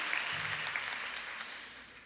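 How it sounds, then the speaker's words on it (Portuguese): Church congregation at a women's gathering applauding, a steady wash of many hands clapping at moderate distance, faint and continuous without talk. "Vamos aplaudir o Senhor."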